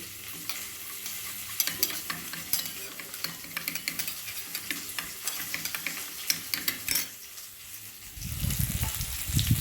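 Koi fish frying in oil in a kadai, a close, continuous crackling sizzle with scattered pops and occasional stirring clatter, ending in a louder low rumble.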